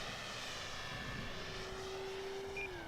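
An E-flite Turbo Timber Evolution RC airplane flies overhead, its engine a steady drone with a rising and falling pitch as it manoeuvres, fairly faint and distant with no voices.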